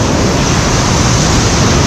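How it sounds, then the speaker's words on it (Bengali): Sea waves roll in at Dublagadi beach in a loud, close, unbroken roar of surf, heavily buffeted by wind noise on the microphone, with no talking. "এইরকম ঢেউ সব একের পর এক আসতে পড়ছে এখন।"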